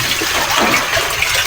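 Water gushes steadily from a hose or spout into a container for livestock on a farm, loud and close, a continuous rushing pour with no voices.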